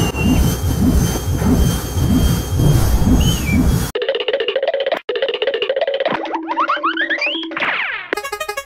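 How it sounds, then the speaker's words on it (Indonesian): A loud, roaring airplane jet engine fills the first four seconds, then gives way to bright, bouncy cartoon-style music and boing effects. "Pesawat terbang."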